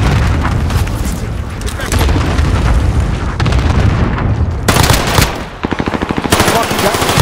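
Video game gunfire in a firefight, loud rapid automatic bursts and booming shots packed densely together, with players talking over the fighting.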